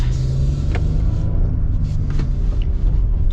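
A 2025 Nissan Frontier PRO-4X pickup with a 9-speed transmission pulls away, its engine a deep, steady rumble heard from inside the cab, with a couple of faint clicks over the drone.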